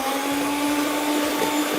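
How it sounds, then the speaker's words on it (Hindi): An electric mixer beats butter and icing sugar for a chocolate cake, a loud steady motor whine with a high constant tone running throughout without pause. "पहले आपने मक्खन और आइसिंग शुगर को खूब अच्छी तरीके से फेंटना है।"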